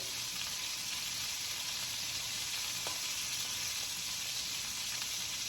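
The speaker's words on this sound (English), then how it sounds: "You want to singe that fat up." Meat sears and sizzles in a hot pan with its fat crisping, a steady close hiss of frying throughout with a few faint stirring clicks and no talking.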